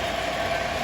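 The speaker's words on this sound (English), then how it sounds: "I'm happy that I can run a conventional train now" A conventional model train, a New Jersey Central switcher, runs along its track with a brief, steady electric hum and a low mechanical rumble.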